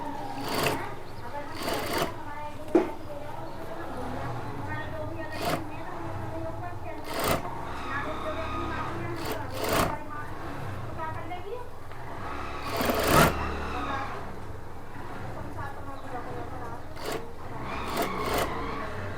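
A sewing machine stitches a kurta band, starting from the centre, in short bursts of rapid mechanical whirring separated by pauses, close by, with a person talking throughout.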